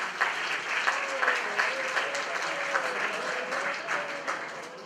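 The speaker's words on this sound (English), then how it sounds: "Please give a warm round of applause for Ahmed." Audience applause at a presentation night honoring Azerbaijan in South Korea, a dense steady round of clapping from a room of people lasting throughout, with a faint tonal hum running beneath and brief swells in intensity.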